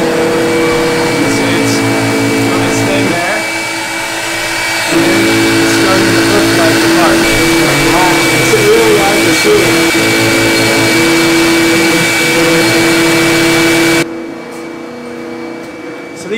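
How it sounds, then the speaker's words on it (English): A CNC machine cutting plastic parts for aeroponic garage towers, running as a continuous loud whirring drone with a steady high tone and shifting mechanical texture, which stops abruptly near the end. "I'm going for the CNC machine."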